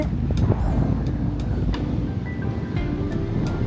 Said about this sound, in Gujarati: પવન ઠંડો છે